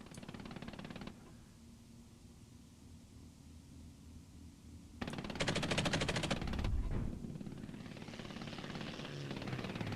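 Video game combat with a gunner firing a machine gun: a dense, rapid burst of automatic fire stands out for about two seconds midway, set against a steady roar of engine or wind noise throughout.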